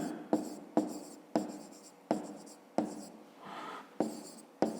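Pen or chalk strikes and scratches come in sharp, regular taps during a fifth-grade math exercise, about eight distinct marks with one longer stroke, close and alone without talk.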